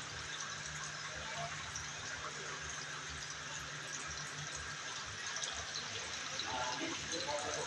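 A water fountain surrounded by flowers at a hotel in Vientiane, Laos, gives a faint, continuous splashing wash of falling water in the background, with people talking over it.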